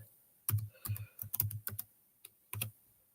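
Bursts of fast, crisp keystrokes on a computer keyboard, close and clear, coming in quick clusters with short pauses between them.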